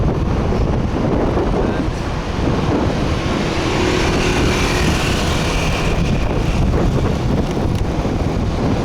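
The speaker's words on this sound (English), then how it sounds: "It's kind of windy today" Steady wind roars and buffets the microphone throughout on the streets of Da Nang, Vietnam, a loud, constant rush of noise with low rumbling gusts.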